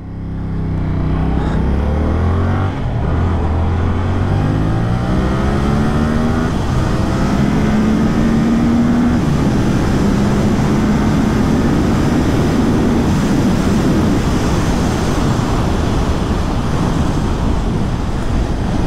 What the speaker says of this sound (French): Allez, on va pouvoir faire une petite accélération là